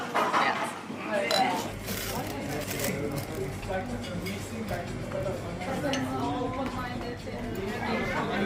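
Busy restaurant in Plovdiv, Bulgaria, with steady diners' chatter and frequent clinks of cutlery and plates throughout, a close, continuous bustle.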